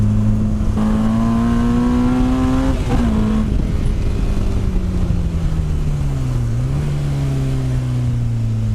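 A 225 bhp Honda S2000 AP1 with an F20C engine and six-speed gearbox revs hard through the gears on a test drive, a loud, rising engine howl with a brief dip at each shift, heard from inside the car without talk.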